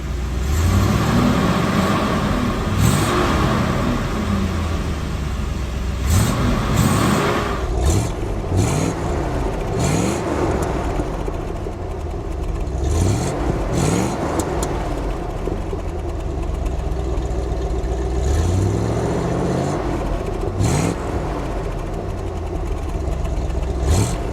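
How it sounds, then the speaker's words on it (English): Loud, close revving from a 1972 Chevrolet Corvette C3 350 V8, with several sharp throttle blips rising out of a steady, lumpy idle over about twenty seconds. "Beautiful engine note."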